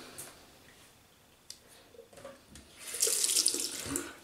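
A tap runs water to rinse a Ming Shi 2000 safety razor at a sink, quiet splashing at first that swells into a louder, fuller gush of running water toward the end.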